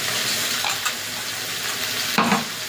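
A ground paste of cumin, coriander, red chilli and ginger fries loudly in a pan for a rohu fish curry. The hiss is dense and continuous, with a couple of brief stirring scrapes near the end and no voices.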